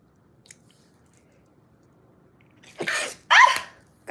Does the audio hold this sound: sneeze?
yes